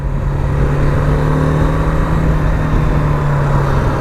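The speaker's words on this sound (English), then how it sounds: "Single cylinder 310-ish cc engine, so it makes a great noise" A 2017 BMW G310R's single-cylinder, roughly 310 cc motorcycle engine thrums steadily at close range, a low, even drone with a slight rise in revs and no voices.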